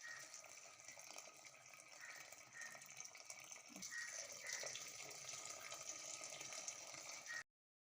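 Hot water is poured into a pot of Ramadan nonbu kanji (rice porridge) in a home kitchen, a steady close splashing pour that runs on for several seconds and then stops abruptly.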